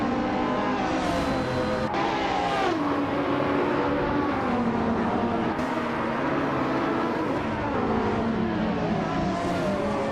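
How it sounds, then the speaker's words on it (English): Racing-game cars roar off the line at Long Beach, including a 1995 Lamborghini Diablo, several engines revving and shifting at once with rising and falling pitch sweeps, loud and continuous with no voices. "the race is kicking off at Long Beach with Bot Gamarza on pole driving."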